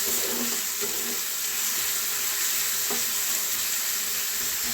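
Chopped, already-boiled meat fried in a pan on a gas stove, a steady close sizzle with faint stirring clicks throughout and no talk.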